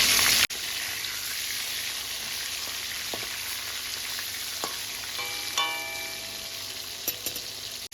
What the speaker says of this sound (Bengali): এই মাংসগুলো আমি 7 মিনিট মতো ভেজে নিয়েছি